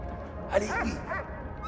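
A dog barks in the World War I video game Valiant Hearts, one short bark followed by a few brief yips and whines over a constant low game background, close and moderately loud.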